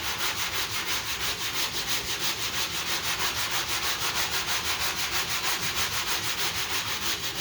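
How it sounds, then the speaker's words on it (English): Sanding block worked up and down over skim coat filler on a car body dent repair, a steady close scraping rub that runs without pause and without speech. "I'm gonna go up and down right there and sand that off"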